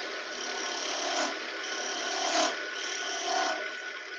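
Continuous loud abrasive rasp of sandpaper pressed against a piece of wood spinning on a lathe, swelling in three passes, close up, with no talking.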